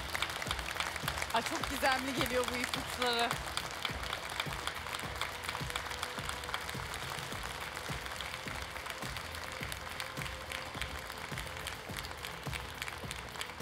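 Studio audience applause on a Turkish masked singing show, steady clapping throughout, with people talking over it at the start.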